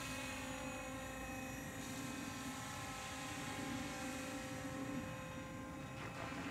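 A radio-controlled model helicopter, a Spirit Geolink-equipped heli, hovers around eight metres up with a steady, faint whine and rotor drone that holds constant with no voices over it.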